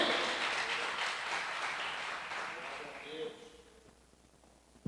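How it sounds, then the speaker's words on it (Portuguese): Applause from a church congregation during a Portuguese-language worship service, a broad wash of clapping that swells and then fades over several seconds, with voices mixed in. "Você pode dar um aplauso a esse Deus maravilhoso?"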